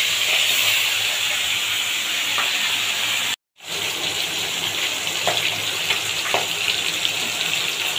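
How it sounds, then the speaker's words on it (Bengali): Loud, steady sizzling hiss of turmeric-and-salt-coated fish frying in hot oil in a kadai, broken by a brief silent gap before the crackling resumes. "ঘটি বাড়ির কড়াইতেও তেল গরম হয়ে গেছে, দিয়ে দেবো মাছ"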